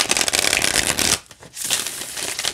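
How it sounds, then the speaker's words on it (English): A matte Insight Editions tarot deck is shuffled by hand in a loud, close riffling rush of cards, briefly pausing midway before the shuffle resumes. "shuffles just like every other Insight Edition deck"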